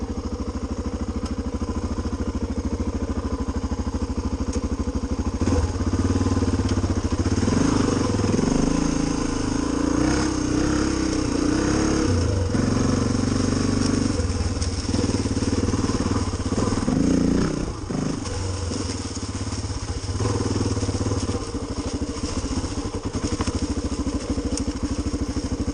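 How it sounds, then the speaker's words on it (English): A Honda XR400 dirt bike is kick-started with a little throttle and settles into running. The single-cylinder engine thumps and clatters loudly and close, with revs rising and falling in the middle before it steadies into an even idle. "Give it one good kick with a little bit of gas. Usually starts right up."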